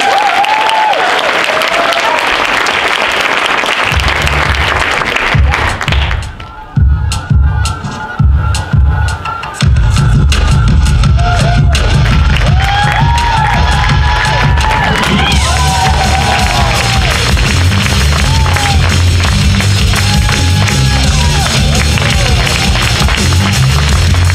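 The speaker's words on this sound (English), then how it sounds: "So we want to hear a lot of applause" Loud audience applause and cheering at a Tae Kwon Do demonstration, with a dense crowd clapping, whoops and children's shouts continuing for the whole stretch and a brief dip partway through.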